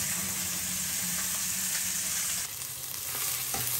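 Raw pumpkin fries in a pan with onion, a loud continuous sizzle close by with occasional stirring scrapes and no talk.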